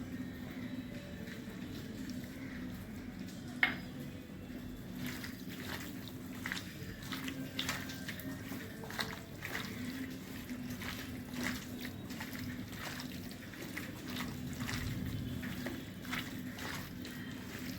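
Pieces of fish being mixed by hand with oil for a Bengali makha-mach dish: soft, wet squishing and squelching in an irregular rhythm, quiet and close, with no talking.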